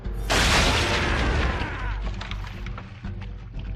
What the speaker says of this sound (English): Round shot for a start. Ready up to fire! Fire!